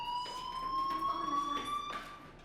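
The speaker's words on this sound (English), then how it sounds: "Hey, do you hear that fire alarm?" A school fire alarm in the video game Life is Strange sounds as a steady, piercing electronic tone with bright harmonics, held continuously for a couple of seconds and then fading slightly.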